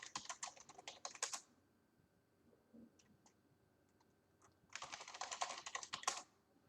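A command being typed on a computer keyboard, two quick bursts of rapid clicking keystrokes separated by a quiet pause with a few isolated taps, close and fairly soft.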